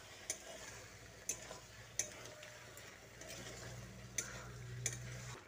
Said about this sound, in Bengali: এখন নুন, চিনি ও লঙ্কার গুঁড়োটা দিয়ে সমস্ত কিছু একসঙ্গে ভালো করে মিশিয়ে নিচ্ছি।